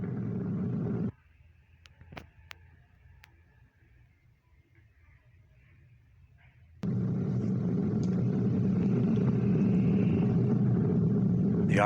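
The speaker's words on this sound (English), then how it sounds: "The rumble of the powerful Ariane 5 now being felt here in the control center." Ariane 5 rocket launch rumble felt inside the control center, a deep broadband roar that cuts off abruptly, leaves a quiet gap with faint clicks, then returns loud and sustained.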